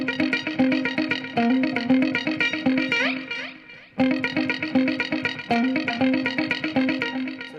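Electric guitar run through effects for a creepy tone: dense, distorted, repeating notes with chorus and echo, a warbling oscillating sweep near the middle, a brief dropout, then the pattern picks up again, loud and steady with no voice.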